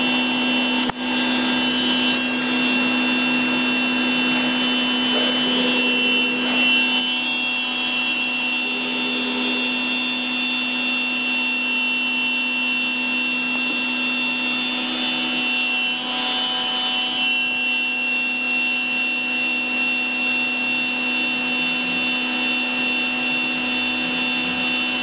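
A Brother TC-22 machine hums continuously and evenly at close range, a steady mechanical drone with high whine tones that persists unchanged throughout.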